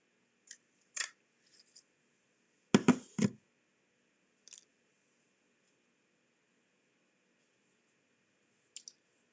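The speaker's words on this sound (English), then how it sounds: "I have this little scrap of paper left, and I'm just going to punch her beak out of this." A hand paper punch pushes a beak shape out of a small paper scrap during card making: a few sharp, close clicks and crunchy snaps, the loudest cluster in the middle, separated by quiet pauses.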